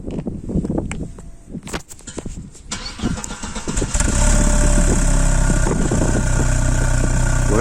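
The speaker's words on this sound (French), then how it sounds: "À l'arrêt, elle fait un plus beau bruit quand tu mets des coups d'accel" An Audi 80 B4 with a 2.0-litre, 90 hp engine and original exhaust starts up after a few clattering cranks, then settles into a loud, steady rev close by.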